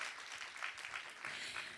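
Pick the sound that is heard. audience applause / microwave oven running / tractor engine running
audience applause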